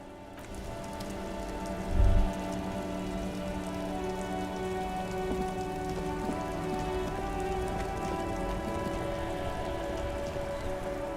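Steady rain falls in Disco Elysium over a traffic jam in Martinaise, a constant patter of drops on surfaces under a low musical drone, with one brief thud near the start.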